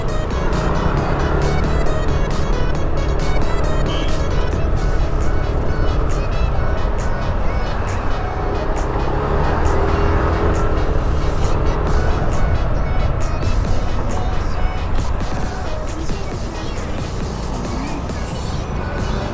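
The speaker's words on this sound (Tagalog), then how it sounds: "Paglabas mo kasi dito papuntang Ruas Boulevard, nagkaka-traffic na to dito eh." Steady traffic along Roxas Boulevard by the seaside in Manila, a continuous loud rumble of car engines with vehicles passing close by, and faint voices blending into the road noise.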